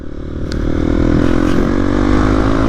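A motorcycle engine, suspected of a worn clutch plate and duplicate parts, runs steadily up close with a continuous loud drone and a brief clatter near the start.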